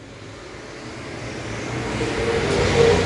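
Modified race cars roaring down the front straight at a speedway, a broad engine drone growing steadily louder as the pack approaches, heard from the stands without voices.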